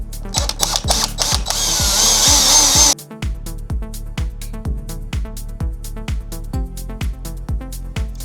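A power drill bores out a screw in a Vela Dynasty Disco Lite boombox, with steady loud whirring for about three seconds, then a sharp stop and rhythmic ratcheting pulses continuing close up.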